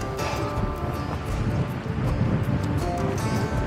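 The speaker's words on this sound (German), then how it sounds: "Ui, dieser Wind." Strong winter wind gusting along a forest trail in the Harz mountains on a freezing day near minus ten degrees, a steady loud broadband roar buffeting the microphone throughout with no talk.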